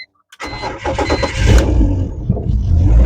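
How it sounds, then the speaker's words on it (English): A 2004 BMW 330i E46 engine cranks and starts after fuel pump and filter replacement, then settles into a loud, steady running rumble close by. "let's start the car and let the gas go through the fuel pump and the filter to the motor."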